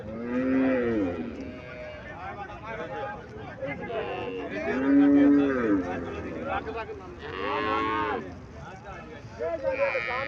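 A cow moos repeatedly at a Friesian cattle fair in Cumilla, Bangladesh, deep drawn-out lows spaced a few seconds apart, close by, with people talking in the background.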